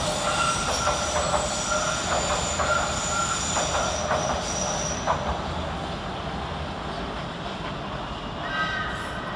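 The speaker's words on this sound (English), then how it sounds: "Another S8 Tube Stock departing on the far side" An S8 Tube Stock train on a Circle Line service departs London Paddington, heard as a moderately distant rumble with squealing wheels and rhythmic rail clatter over steady station ambience.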